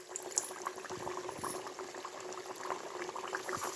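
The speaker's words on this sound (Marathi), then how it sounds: "तर चला आपण एक एक करून ह्या पुऱ्या तळून घेऊया." Spinach puris frying in hot oil, a steady soft bubbling and crackle that stays even and moderately close throughout, with no voices.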